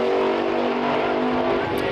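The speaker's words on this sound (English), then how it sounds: "Bobby Wallace brings the car forward again after restarting." A Pro Mod drag racing car at a British Drag Racing Championship round idles and revs after a restart, a loud, continuous raspy engine roar heard at moderate distance, with faint commentary beneath.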